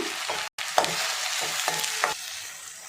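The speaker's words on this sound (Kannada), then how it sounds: "ಟೊಮೊಟೊ ಒಂದು ದೊಡ್ಡ ಸೈಜು ತೊಗೊಂಡಿದ್ದೀನಿ ಅದನ್ನು ಹಾಕ್ಬಿಟ್ಟು ಚೆನ್ನಾಗಿ ರೋಸ್ಟ್ ಮಾಡ್ಕೋಬೇಕು" One large tomato roasts in oil in a pan for an eggplant gojju, with a constant close sizzle broken by several light spoon taps and a moment of stirring.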